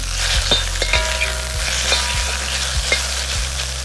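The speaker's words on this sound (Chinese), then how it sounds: "等到油温逐渐升高呢，我们可以快速的滑入肉丝。 大火炒肉丝呢" Shredded pork stir-fried over high heat in hot oil in a wok with minced garlic, a steady close sizzle broken by rhythmic scraping and stirring strokes, with no voices.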